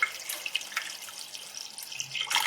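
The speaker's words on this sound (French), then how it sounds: "De l'eau." Water poured into a cooking pot while preparing food, a steady splashing, trickling stream heard close by with brief drips and bursts of flow, no talking.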